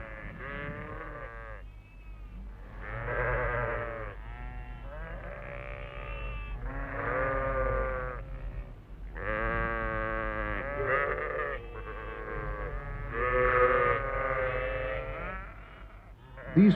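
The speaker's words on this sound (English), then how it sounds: "Large herds of sheep and goats testified to the prosperity of the Khan's tribe." Large herds of sheep and goats at a Kurdish nomad camp bleat continuously, many overlapping calls rising and falling close by with no talk.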